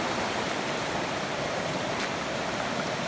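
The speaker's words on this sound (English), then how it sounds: "this is the creek." A creek flows beside a footpath on a rainy day, a steady, even broadband hiss of running water without pauses, fairly soft and unbroken, with no voices.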